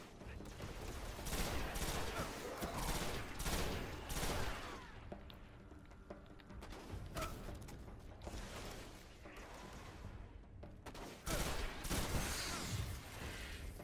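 Rapid gunfire from the Stranger's Gun in the video game Destiny, loud bursts of shots with mechanical clicks and creaks, recurring in dense volleys with brief lulls between them.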